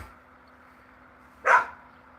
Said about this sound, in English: You guys are now hearing my dog go crazy about something